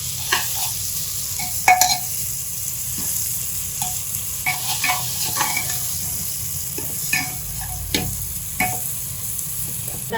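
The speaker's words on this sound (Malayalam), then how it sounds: "തക്കാളി, പച്ചമുളക്, കറിവേപ്പില ഇട്ടത് നല്ലതായിട്ട് വഴറ്റുക" Tomato, green chilli and curry leaves sauté in a pan for a Kerala mutton curry, a continuous sizzle broken by repeated scraping stirs and light clinks of a spoon against the pot.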